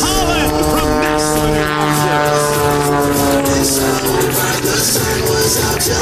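An MX-2 aerobatic propeller airplane performing at the NAS Jacksonville airshow, its engine note a loud, sustained tonal drone with shifting pitch as it maneuvers, heard continuously with a faint crowd murmur underneath.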